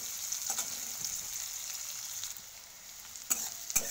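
Onions frying in a pan for a crab curry, giving a quiet, steady hiss of sizzling oil with a couple of sharp utensil clicks near the end and no talking.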